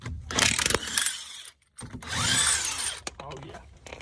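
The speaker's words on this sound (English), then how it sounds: "We got the impact drill." Impact drill working on a car wheel while changing a flat tire, with bursts of loud mechanical whirring and rattling separated by a short gap, close by and mixed with talking.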